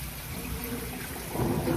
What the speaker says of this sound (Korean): 수돗물을 쭉 따라줍니다